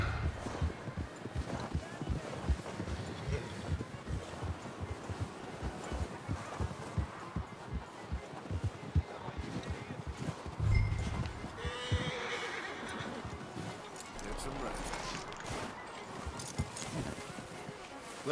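Horses in Red Dead Redemption 2 clop and whinny while being ridden up and hitched, with uneven hoofbeats throughout and a louder whinny midway, set against ambient game sound and some talk.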